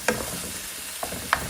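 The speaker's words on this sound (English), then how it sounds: "stir in the ginger" Lamb mince with ginger is stirred in a pan for chili: a soft, low frying hiss carries a few short scraping clicks of the utensil, close and fairly quiet.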